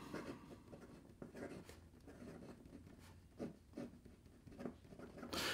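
Flexible fountain pen nib writing on Odyssey notebook paper, a faint, close scratching and scraping of strokes in irregular bursts.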